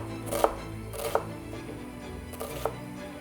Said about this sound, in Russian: давайте нарежем лук аккуратненьким кубиком